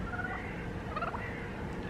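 Turkeys gobbling somewhat distantly over a steady outdoor background, a brief warbling call rising above the constant rumble.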